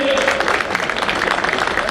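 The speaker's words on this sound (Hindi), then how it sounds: "सभी से एक बार प्रार्थना करूंगा जोरदार तालियों से हमारे मुख्यमंत्री का स्वागत करें" A crowd claps in a dense, steady wash of applause welcoming a chief minister, filling the space, with no single voice standing out.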